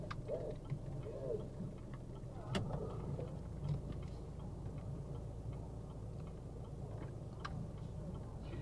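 A car's turn-signal indicator ticks in a regular rhythm inside the cabin during a driving lesson, faint beneath engine rumble with brief murmurs of voices.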